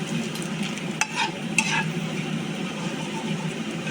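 Bay leaf and dried chillies fry with mustard seeds for a sweet and sour mango chutney, giving a steady close sizzle broken by a couple of sharp stirring clinks and small pops.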